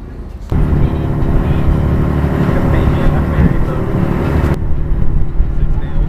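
A loud, steady engine drone rumbles continuously, starting abruptly and cutting off near the end, from a ferry boat's motor running close by at the dock.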